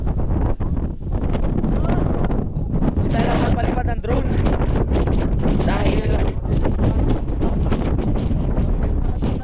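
Strong wind on a mountaintop roars and buffets the microphone throughout, loud and constant, while people talk over it.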